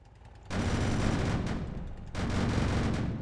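A Gatling gun fires continuously in the tank-building video game Sprocket, two sustained loud bursts of rapid fire separated by a brief pause, the roar dense and unbroken.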